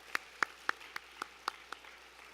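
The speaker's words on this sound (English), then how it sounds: "Give them one more round of applause, please." At a school class vesting ceremony, a few people in the audience give isolated, sharp handclaps, about seven spaced beats in a loose rhythm, close and distinct against a quiet room.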